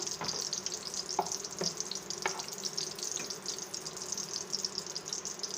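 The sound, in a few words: bay leaves frying in hot oil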